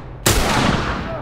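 A single sharp rifle shot in The Last of Us cracks out loud and close after a brief quiet, followed by a decaying echo tail.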